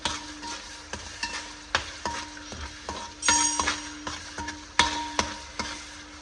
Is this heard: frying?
yes